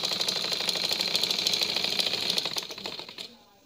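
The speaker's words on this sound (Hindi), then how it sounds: "जैसे आम हम सिलाई लगाते हैं ना, जो मशीन का बिल्कुल सादा टांका है" A domestic sewing machine runs a plain straight stitch, joining two pieces of fabric into a simple seam. The rapid, steady mechanical chatter holds for about three seconds, then stops abruptly.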